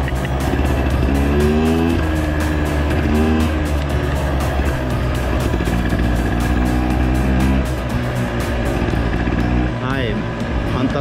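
A vintage Showa-era two-stroke off-road motorcycle rides a mountain trail, its engine loud and close throughout, with repeated revving sweeps as the throttle opens and closes.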